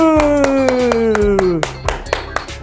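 Children at a church vacation Bible school craft session clap in sharp, scattered bursts, the claps ringing out near and distinct over a sustained, gradually falling tone.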